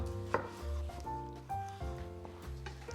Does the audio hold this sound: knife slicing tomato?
yes